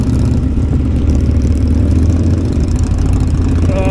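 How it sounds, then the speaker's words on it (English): A heavy Harley-Davidson V-twin motorcycle engine idles with a deep, steady, throbbing rumble, loud and close, with no talking. "Harley V-twins definitely sound really good"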